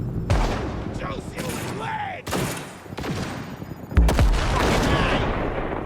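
Enemies trade gunfire in Cyberpunk 2077, with several loud shots and bursts at medium distance, separated by short gaps, while someone talks over the fighting.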